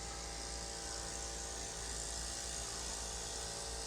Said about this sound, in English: That's an air compressor.